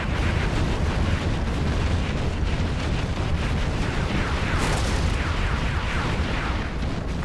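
Rocket bomb explosions in the real-time strategy game Command & Conquer Generals Zero Hour, a dense, continuous barrage of loud booming blasts and rumble that never lets up, with no talking.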